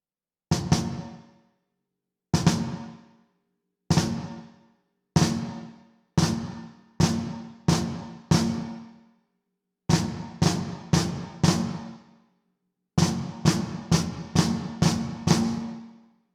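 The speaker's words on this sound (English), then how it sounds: "I'm going to start off playing the 2 hits too far apart, and I'm going to close them together" Snare drum flams played slowly, then again and again in groups of strokes whose two hits draw closer together; sharp, close, dry hits separated by silence, no talking.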